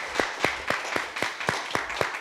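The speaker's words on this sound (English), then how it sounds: "Let's give Evie a round of applause" Applause for a performer at a school storytelling event, heard as a sparse, rhythmic run of distinct claps, roughly every quarter second, moderately close and fairly soft.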